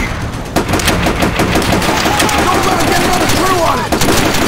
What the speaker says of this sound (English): Keep on that MG!